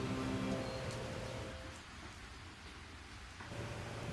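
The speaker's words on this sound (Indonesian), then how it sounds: "terjebak dengan hujan yang sangat lebat" Heavy rain falls as a dense, steady hiss that dips briefly in the middle before returning at full strength, with no voices present.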